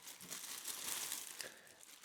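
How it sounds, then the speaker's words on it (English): A clear plastic bag is pulled off an OXO Good Grips POP square storage container, giving a faint, close crinkling rustle that runs steadily for about two seconds with no talk. "Now let's go ahead and remove the clear plastic bag from the big square"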